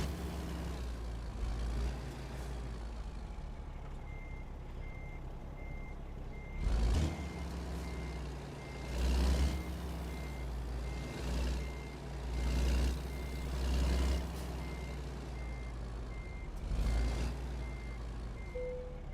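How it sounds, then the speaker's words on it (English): Reversing beeps from a big rig in American Truck Simulator sound as a steady series of evenly spaced electronic tones over a low engine rumble, with a few louder air-brake hisses and engine swells breaking in. "You can definitely hear the truck better now, too, from outside."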